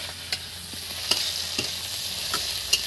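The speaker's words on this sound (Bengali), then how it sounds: "এটা ভালো করে ভাজতে হবে বন্ধুরা" Vegetables including bitter gourd fry for shukto in a pan, giving a steady soft sizzle with a few light scrapes of a spatula stirring, close and without voices.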